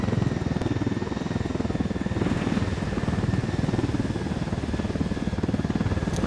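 A helicopter in the video game Ghost Recon Wildlands drones loudly and continuously up close, its rotor producing a steady rapid chopping pulse under a constant engine hum.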